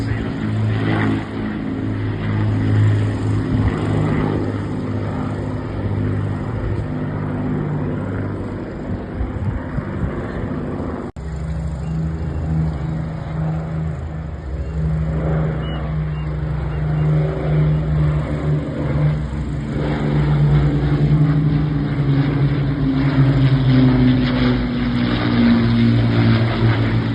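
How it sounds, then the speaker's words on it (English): Rolls-Royce Merlin piston aircraft engines thrum steadily at an RAF Waddington air show, a continuous loud low drone with a propeller beat, swelling slightly later on, heard alone without talk. "The iconic Merlin engines there just thrumming away."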